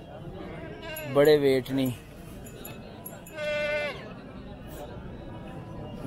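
Goats bleating at an open-air animal market after Eid, with two loud wavering bleats close by, a fainter one a moment later, and market chatter and shouting underneath.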